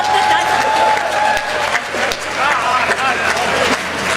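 Audience at a Hindi kavi sammelan poetry gathering in Pratapgarh, Uttar Pradesh, breaks into sustained loud applause with cheering voices, a dense steady wash of clapping lasting the whole stretch.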